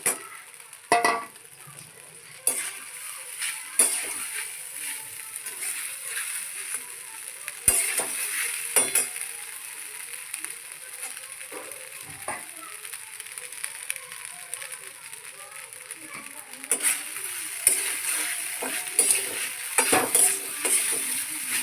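Oil sizzling steadily as chilies fry on a tava, with scattered clinks and scraping of a utensil and occasional talk.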